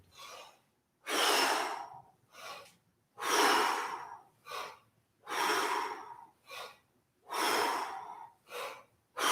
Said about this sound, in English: We'll get these quick, full breaths in between phrases.